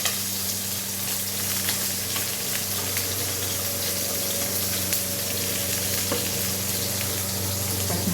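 Mustard seeds, green chilli, ginger and garlic frying in hot oil: a steady, dense sizzle close by, with faint crackles and a low hum underneath, and no talking.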